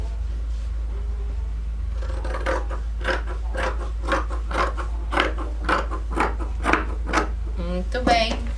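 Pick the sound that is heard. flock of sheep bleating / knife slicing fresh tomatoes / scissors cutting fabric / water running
scissors cutting fabric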